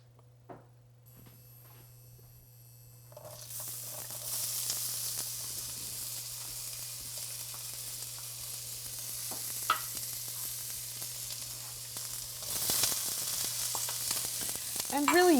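Food hitting a skillet with extra virgin olive oil, bursting into a loud, steady sizzle after a quiet start, with occasional stirring clatters and a brief sharper flare near the end; no one talks.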